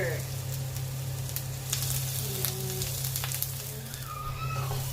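Ginger sizzles steadily in hot cooking oil for stir-fried lumpiang taugi filling, a loud, continuous frying hiss with occasional spatter pops and faint stirring clinks throughout.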